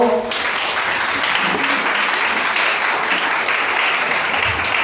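French-speaking church congregation acclaiming Jesus with loud, sustained applause and cheering, a thick unbroken roar of many hands after a brief voice at the start.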